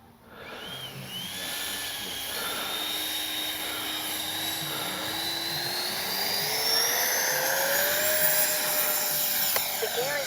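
A HobbyKing FlyCat V2 radio-controlled jet spools up and takes off, its steady high turbine whine rising in pitch as it climbs and passes overhead, loud and continuous throughout with no talk.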